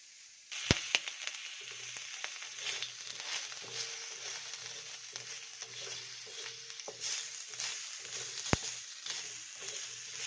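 Masala frying in a pan gives a soft continuous sizzle, with stirring scrapes and a couple of sharp clinks of a utensil against the pan, heard close and with no speech.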